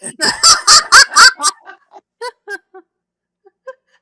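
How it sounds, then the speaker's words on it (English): A loud bird gives a rapid burst of harsh honking calls up close, then trails off into sparser, quieter squawks and chirps. "Shut up, bird."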